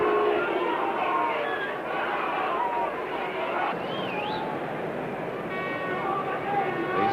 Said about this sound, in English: The Stretford end crowd settling down for the start of the second half